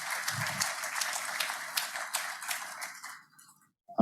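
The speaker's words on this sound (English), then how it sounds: "Let's give us a round of applause" An audience at a ExoCoBio and Benev conference in Korea gives a round of applause, dense clapping that thins out and dies away to near silence before a sudden noise at the very end.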